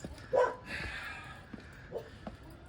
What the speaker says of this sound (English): You can hear the barking.